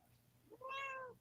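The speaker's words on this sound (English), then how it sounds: "Yo, your cat really be talking to you." House cat giving a single short meow, quiet and close, rising then falling, over faint background noise.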